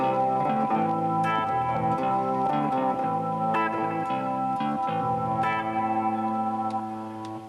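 A guitar synth system plays programmed combinations of sound, layering shifting sustained tones with echo and chorus-like effects, loud and continuous, with plucked note attacks, fading slightly at the end.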